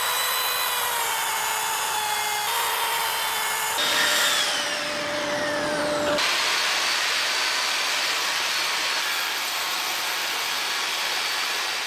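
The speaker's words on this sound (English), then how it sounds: "I have to finish the job with the router." A power router cuts wood on a 1920s workbench, giving a loud, continuous high whine that shifts pitch as the bit bites and then settles into a steady roar, with no talking.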